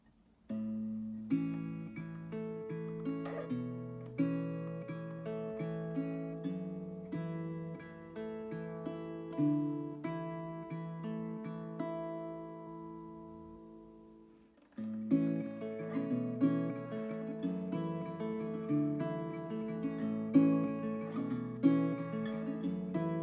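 Acoustic guitar strums the chorus chord progression of a song, steady rhythmic chords ringing clearly and alone, with a brief pause near the middle before the pattern resumes.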